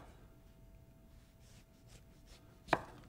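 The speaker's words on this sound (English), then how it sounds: "you can also cut these rather cool little designs" A kitchen knife cuts decorative designs into an acorn squash, giving one sharp, loud chop near the end after quiet near-silence.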